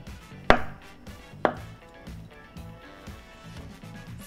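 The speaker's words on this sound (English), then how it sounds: "If you want to cut your avocado and maybe not cut your hands, you could always do it on the cutting board." A knife cuts an avocado on a cutting board with two distinct thuds about a second apart. The cuts are close and crisp over a quiet room, with faint background music and no talking.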